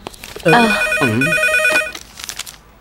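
A telephone rings with a steady electronic trill in repeated bursts, while a voice speaks over it and fades out near the end.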